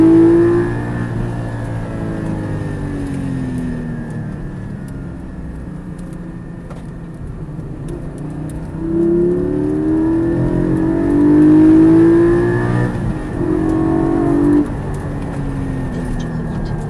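A Porsche 718 Spyder at full throttle on a damp track, engine note rising and falling through repeated revving pulls and gear changes, heard from inside with a loud, steady drone.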